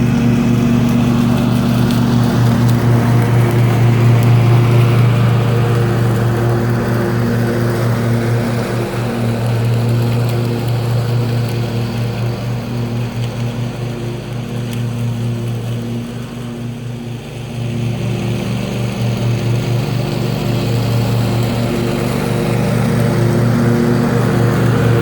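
A Husqvarna lawn mower fitted with a 9-bushel bagger runs continuously, its engine droning loud and close with a steady low hum that dips briefly in the middle before resuming.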